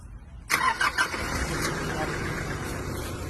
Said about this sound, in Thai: เราติดเครื่องคันที่มีไฟก่อนครับ